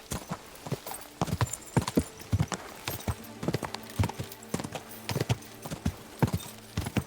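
Horse hooves clip-clopping in the video game Kingdom Come: Deliverance 2, a steady walking rhythm of crisp, fairly close hoof strikes over a quiet ambient bed, with no talking.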